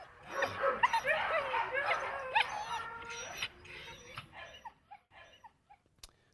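Dog yelping, barking and whimpering in rapid bursts, loud and close at first, then thinning to scattered softer whines and a final sharp yip.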